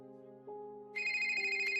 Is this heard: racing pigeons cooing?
no